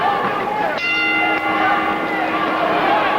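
A ringing bell signals the round at a boxing match between Tim Witherspoon and Greg Page, its sustained tone rising over a steady roar of arena crowd noise and commentary.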